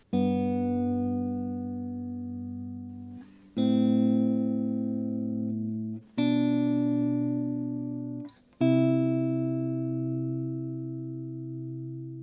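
Sustained electric guitar chords ring out one after another through an Electro-Harmonix Good Vibes pedal on a low setting, each shimmering with a gentle, subtle warbling before the next strum.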